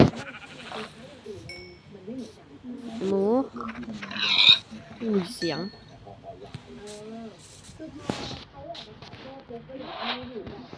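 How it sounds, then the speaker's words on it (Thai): Sheep in Minecraft survival mode with the Wither Storm mod give a few wavering bleats a few seconds apart, close and clear, mixed with someone talking steadily over them. "แกะด้วย"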